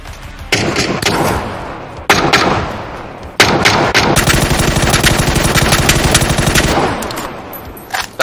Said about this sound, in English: That was pretty bad for far distance shooting.